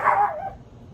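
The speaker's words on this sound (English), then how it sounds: "I had to put the dogs in the crib, man. They was just gonna get the barking, doing too much" A single dog gives one sharp, fairly close bark that quickly fades, with a quiet indoor background and no talk.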